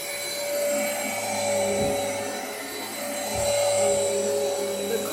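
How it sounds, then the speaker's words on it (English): A Hoover carpet shampooer runs with a steady, fairly quiet motor whine and airy hiss, plus faint low thumps as it moves over carpet. "I'm actually using the carpet cleaner here."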